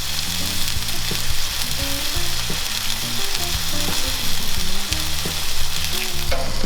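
Marinated salmon fillets sizzle steadily on a hot BBQ grill, a loud continuous frying hiss close up, with faint low thuds of handling underneath and no talking.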